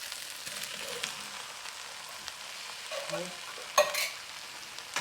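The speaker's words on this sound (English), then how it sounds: "So let's go in and give our hominy and our delicioso chicken a stir." Hominy and vegan chicken stirred while frying in a pan, with a soft steady sizzle and scraping stir strokes, a sharper clatter near the end, no talking.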